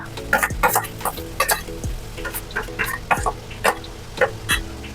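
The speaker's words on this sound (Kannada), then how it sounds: "ತಿರುಗಿಸ್ಬೇಕು ಅದನ್ನ, ಚೆನ್ನಾಗಿ ಫ್ರೈ ಆಗೋವರೆಗೂ ತಿರುಗಿಸ್ಬೇಕು" Mushrooms stir-fried with cabbage in a pan for mushroom fried rice, with a continuous close sizzle and repeated rhythmic scrapes and clanks of a spatula tossing the food.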